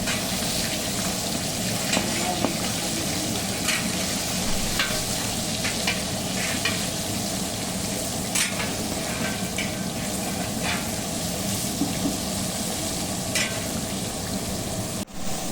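Fish fry in a large karahi for a festive home meal, a loud, continuous sizzle with occasional stirring scrapes and spatters throughout.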